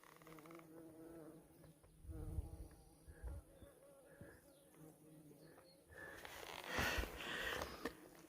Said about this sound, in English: Can you hear the bees?